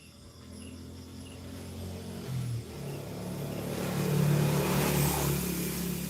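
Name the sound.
passing road traffic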